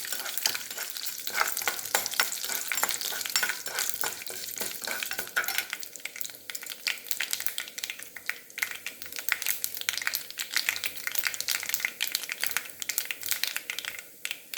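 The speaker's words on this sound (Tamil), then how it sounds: "ஒரு காஞ்ச மிளகா இதை நல்லா வதக்கிடணும்" Dried red chili sautéing in a pan of oil for a ridge gourd kadayal, a steady sizzle with scraping stirs, loudest in the first half before settling to a lighter crackle.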